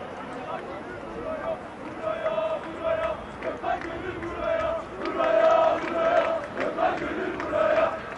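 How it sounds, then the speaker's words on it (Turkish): Fenerbahçe fans at a training session at Samandıra chanting players' names one by one, a rhythmic, distant crowd chant rising and falling in waves, with a commentator talking over it. "Gökhan Gönül tezahüratlarıyla yine futbolculara tek tek yapılan tezahüratlar devam ediyor"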